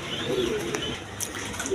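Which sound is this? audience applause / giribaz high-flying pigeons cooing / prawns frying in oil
giribaz high-flying pigeons cooing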